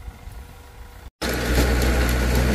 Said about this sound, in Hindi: उधर ट्रैक्टर चल रहे हैं